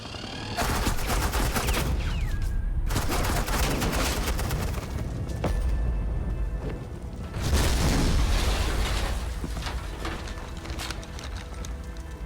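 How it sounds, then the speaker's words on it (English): Sustained bursts of automatic gunfire lay down suppressing fire in the Batman Telltale Series game, loud and dense, with a brief lull before a second heavy volley. "Suppressing fire."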